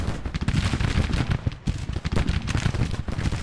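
Civil War artillery in Grand Tactician: The Civil War pounds away in a dense, continuous barrage of overlapping booms and cracks, loud and close with no pauses.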